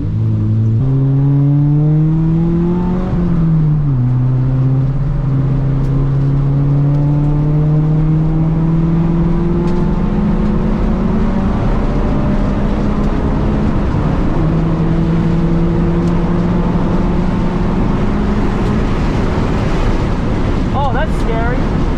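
An $800 Acura Integra race car engine revs and accelerates on a wet track, its harmonic tone climbing and shifting through gears for the whole stretch, loud and close with steady wind roar, under occasional talk.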